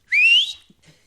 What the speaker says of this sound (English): I will bust out a whistle.